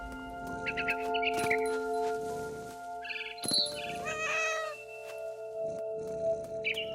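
A cat meowing in the video game What Remains of Edith Finch, several short close meows and yowls over a steady game ambience with a few faint bird-like chirps, no talking.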